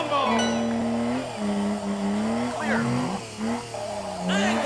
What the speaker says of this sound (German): Ja, Angle Drift hat funktioniert.